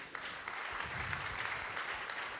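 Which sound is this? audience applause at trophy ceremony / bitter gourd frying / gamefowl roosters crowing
audience applause at trophy ceremony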